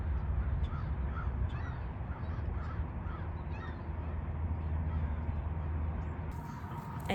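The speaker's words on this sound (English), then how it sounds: "look at these crows" Several crows caw repeatedly outdoors, their harsh calls rising over a steady background rumble, with a few birds calling at once and no one speaking.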